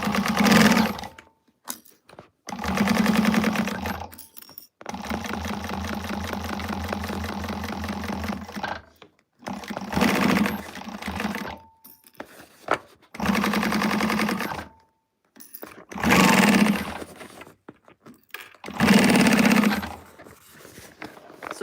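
Sewing machine stitching a handbag runs in several bursts of steady motor whir with a repeated needle rhythm, separated by short pauses and handling noises, close and fairly loud.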